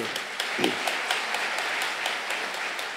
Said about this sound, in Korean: 감사 박수.